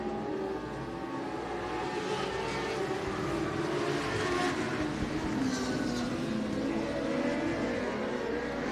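Dwarf race cars at the Dwarf Car Nationals roar around the track after a restart, a dense sustained engine drone from a pack of cars, steady and moderately distant.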